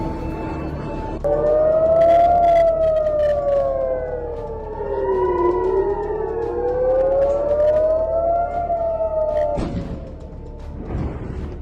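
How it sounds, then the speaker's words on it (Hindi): A loud, wailing air raid siren warning of a rocket attack at an airport in Israel rises and falls slowly in pitch, sustained and droning, with a rumbling background. "एयरपोर्ट पर रॉकेट हमले का सायरन बज रहा है।"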